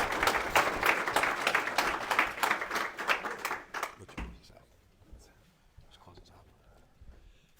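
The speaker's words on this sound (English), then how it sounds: "Give everybody a round of applause." A burst of clapping and applause for about four seconds, then it quickly dies away into quiet room noise.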